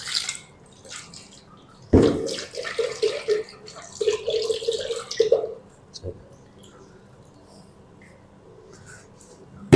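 Water poured into a blender jug, a few seconds of splashing and trickling with clinks of the jug, then quieter handling noises afterward.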